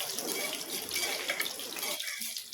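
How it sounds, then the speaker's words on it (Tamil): Mustard seeds splutter in hot oil while cabbage rice is being cooked, giving a dense, close sizzling hiss with crackles that thins out toward the end. "கடுகு பொரியுது."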